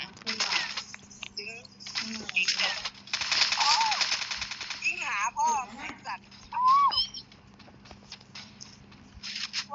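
Gunfire in the Free Fire mobile battle game, rapid automatic bursts in quick runs between brief pauses, loud and close, mixed with excited talk over the shooting.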